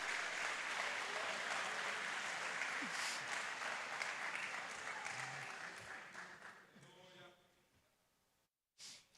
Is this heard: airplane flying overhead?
no